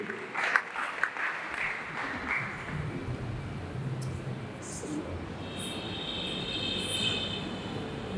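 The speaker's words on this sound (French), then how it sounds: "Sur votre applaudissement, s'il vous plaît" An audience claps at a School of Ministry graduation ceremony in Haiti, a steady wash of applause filling the hall for several seconds, with a few sharper bursts near the start.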